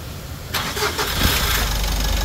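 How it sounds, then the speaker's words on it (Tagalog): A Mitsubishi L300 diesel engine cranks and fires after an EGR valve cleaning, catching about halfway through into a steady close running rumble, with no talk. "Ayan, susubukan ulit natin i-start."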